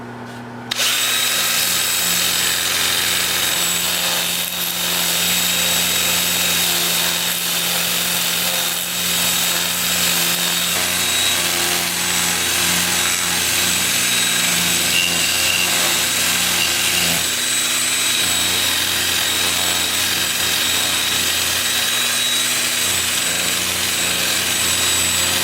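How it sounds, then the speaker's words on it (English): Power sander working a wood turning at 180 grit, a steady continuous whir with abrasive rubbing holding for the whole stretch after a brief start, close and loud, with no talk. "I'll sand this with my Sandoflex at 180 grit"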